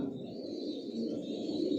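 Racing pigeons in a loft give a continuous low, throaty cooing, steady and close, with a faint higher tone above and no voices.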